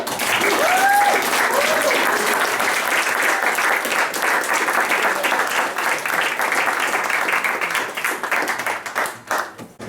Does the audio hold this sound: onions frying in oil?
no